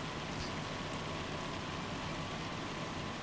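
Steady hail hammering down in Farming Simulator 25, a dense, even patter of small impacts filling the whole stretch at a constant loud level with no voices.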